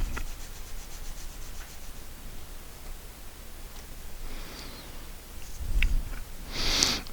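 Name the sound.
rubbing a glued wood joint back and forth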